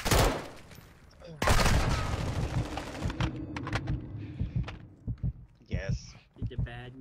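Gunfire in the video game Warzone 2: a loud burst opens, another heavy volley follows, then scattered shots crackle over game noise while players talk.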